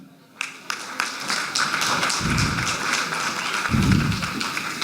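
An audience at a professional appraisers' event breaks into steady applause, a dense wash of many hands clapping that swells and holds, with a few low thumps underneath.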